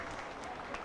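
Conference audience applauding at an Indonesian net-zero panel event, a steady dense wash of clapping filling the short moment without any voices on top.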